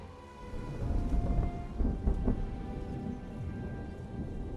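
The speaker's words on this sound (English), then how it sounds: "Oh, the storm was rolling in" A thunderstorm rolls in within the game Solasta 2, with low rumbling thunder swelling and fading over steady rain, a broad continuous wash with no voices.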